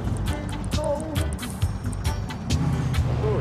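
A car cruising through the streets in Grand Theft Auto 4, its engine a low steady hum under road and traffic noise, with occasional sharp clicks and a voice murmuring briefly in the mix.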